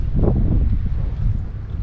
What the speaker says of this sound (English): It is getting windy and bad here